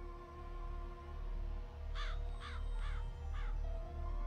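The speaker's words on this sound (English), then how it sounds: "Am I supposed to let the crows come back or something?" Crows caw in the game Psychonauts, four harsh calls spaced about half a second apart over a steady low ambient drone, with no speech.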